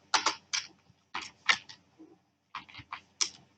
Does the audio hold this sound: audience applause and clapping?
no